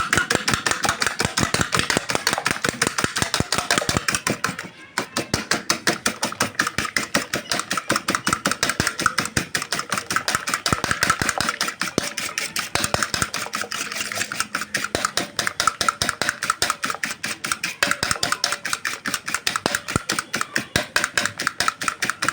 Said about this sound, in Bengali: কাঁটা চামচ দিয়ে ভালো করে ডিমটাকে কেটে নেন